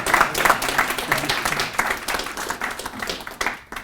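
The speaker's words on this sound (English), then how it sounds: "please give him a round of applause" An audience at a panel forum applauds steadily for several seconds with scattered individual claps standing out, close and fairly loud, fading toward the end.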